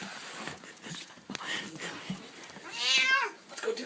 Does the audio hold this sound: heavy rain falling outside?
no